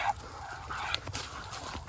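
An eager dog named Bucky, straining on a leash toward a rabbit at a canal campsite, gives short high whimpers and yips over a steady outdoor background.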